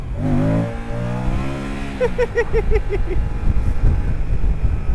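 An adventure motorcycle engine revving hard during a wheelie, the revs climbing and then dropping through quick gear-like steps, with wind rush over the microphone and a brief voice at the start.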